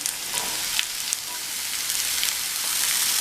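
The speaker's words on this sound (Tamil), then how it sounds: "இந்த காயை எண்ணெயிலேயே 1 நிமிஷம் போல் வதக்கி விட்டுக்கோங்க" Chopped snake gourd sautés in hot oil with green chillies, a soft, even sizzle close by with faint crackles, brief and without speech.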